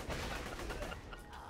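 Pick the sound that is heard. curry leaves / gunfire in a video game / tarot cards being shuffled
gunfire in a video game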